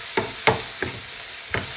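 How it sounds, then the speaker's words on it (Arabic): Garlic and onion frying in a pan, a soft sizzle broken by four sharp stirring scrapes in quick succession, close by with no talking. "ديجا كنت دايره درت ريوس ديال الثوم"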